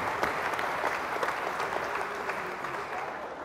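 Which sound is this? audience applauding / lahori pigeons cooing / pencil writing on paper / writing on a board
audience applauding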